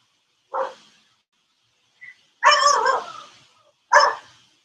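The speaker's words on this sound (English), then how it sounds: "You guys get to hear my dogs." Dogs bark three times, sharp and separate, with a faint yip between, close by in a quiet room during a live tai chi class.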